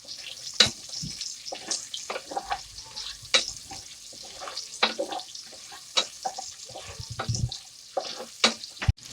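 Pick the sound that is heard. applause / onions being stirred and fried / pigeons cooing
onions being stirred and fried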